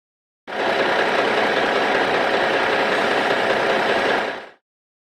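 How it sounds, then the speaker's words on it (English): A lorry engine runs in a loud, steady drone with an even rumbling texture, unchanging from start to finish before fading out. "Lorry."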